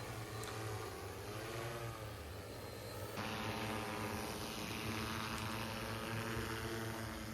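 An agricultural spraying drone hums over a crop field, a faint, steady motor buzz that steps up in pitch and loudness partway through and holds there, with no talk.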